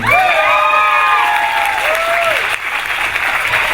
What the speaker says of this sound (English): Let's give Adrian a hand